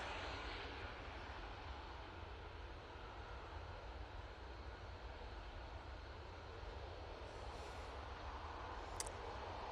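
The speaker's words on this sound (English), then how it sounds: "So this is the A321neo going to Enfida." Airbus A321neo airliner passing at Manchester Airport, a faint, steady distant jet roar with a low rumble, holding evenly without voices and ending on a brief sharp click.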